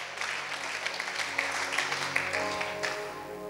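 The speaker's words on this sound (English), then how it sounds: "Clap better." A congregation claps during a sermon, a moderately faint, continuous patter of many hands lasting a few seconds with no voices over it.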